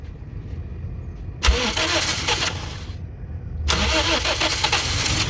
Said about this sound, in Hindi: ये गाड़ी स्टार्ट हो चुकी है।